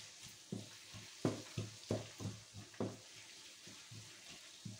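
A spoon stirs a cabbage and chicken filling in a pan over very low heat with barely any oil, making a quiet, rhythmic series of soft scrapes and light sizzles.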